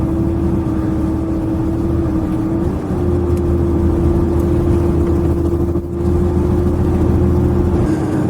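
A Mercedes Sprinter van's turbocharged engine pulls under acceleration with boost building to about 1100 hPa, a steady loud drone with a constant whining tone, briefly dipping once before resuming.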